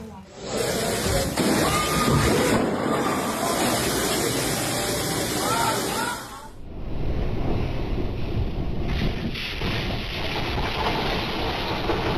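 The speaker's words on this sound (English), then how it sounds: "Massive waves slammed into a restaurant in California, sending seawater rushing inside" Massive ocean waves slamming into a restaurant in California, a loud continuous roar of surf and rushing seawater with wind buffeting the microphone, and a narrator talking over it.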